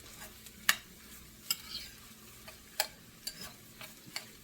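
A spoon stirs tomato sauce in a pan on the stove, sending out sharp, irregular clinks and scrapes against the metal over a faint low sizzle, close up and quiet, with no one talking.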